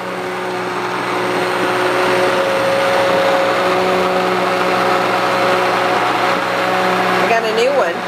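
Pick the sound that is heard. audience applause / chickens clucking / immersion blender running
immersion blender running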